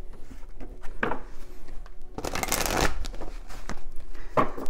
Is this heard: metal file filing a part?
no